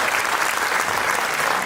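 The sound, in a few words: audience applause at a theatre performance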